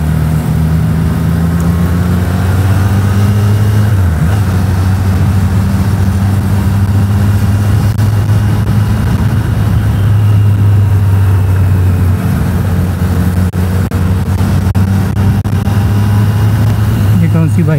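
A Hero Xpulse motorcycle engine idling nearby, a loud, steady low rumble that holds throughout, with voices talking over it.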